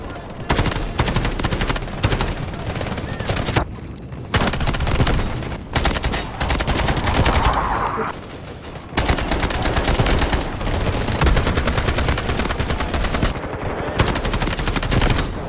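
Weapon fire in the Delta Force shooter game on PS5, loud close bursts of rapid automatic gunfire separated by brief pauses, with no talking.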